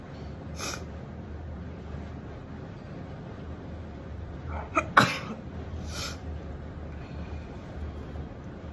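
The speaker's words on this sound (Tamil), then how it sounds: "பெப்பருக்கு நல்லா தும்மல் வருது." A person sneezes once after smelling pepper, a sharp burst in the middle of a low, steady background hum, with a few fainter sniffs around it.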